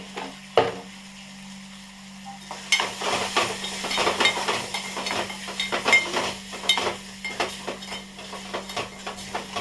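Coriander-cumin powder, red chilli and salt fry in a pan while a spoon stirs and scrapes them in busy, irregular strokes over a constant sizzle and a low electrical hum.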